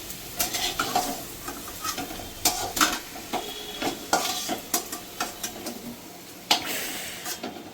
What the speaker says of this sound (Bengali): আলুটা ভালো করে ভাজা হয়ে গেছে